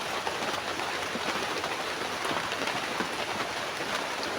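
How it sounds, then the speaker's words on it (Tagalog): Heavy rain in a video game pours in a steady, dense hiss with no letup throughout, loud and continuous. "kasi dumalakas ang ulan"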